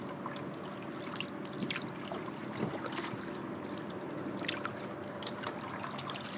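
A Swift kayak paddled across Lake Denoon, with steady water trickling and splashing from the strokes, close and continuous, with no talk.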